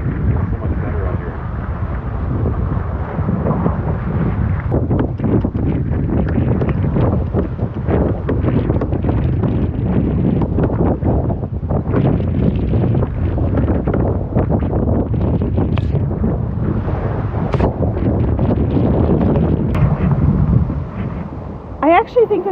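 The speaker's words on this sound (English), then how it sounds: "I actually think that the wind might have calmed down a little bit too." Wind buffets a boat sailing near shore in rain, a continuous loud roar of gusts across the microphone with a rushing, rumbling texture and no pauses throughout.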